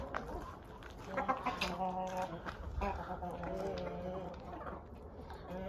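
Hens cluck steadily with a young rooster among them in a farmyard flock, a busy run of overlapping calls at close range.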